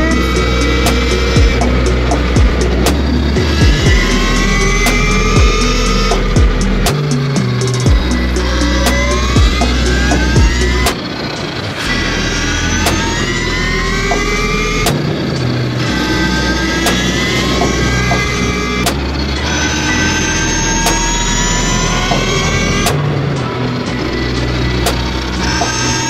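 A KTM Freeride E-XC electric motorcycle climbs uphill, its electric motor whining loud and close with rising and falling pitch. Sharp knocks and rattles from the terrain punctuate the whine throughout, and no one speaks.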